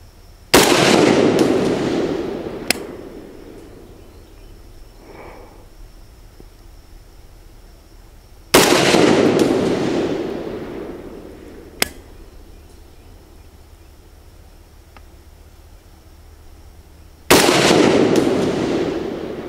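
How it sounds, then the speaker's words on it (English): Three loud, sharp AK-47 rifle shots ring out several seconds apart during zeroing on a range, each followed by a long fading echo, with a couple of faint clicks between them. "Let me shoot another group and we'll see if I'm happy with it"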